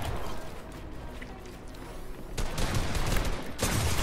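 Gunfire in the Fortnite video game: a rattle of shots, then two louder bursts of rapid fire close by, over a busy background of game noise.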